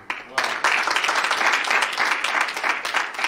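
An audience at a Rajkot Gurukul satsang applauds the devotees with a dense, steady round of clapping that starts sharply and holds at even strength throughout.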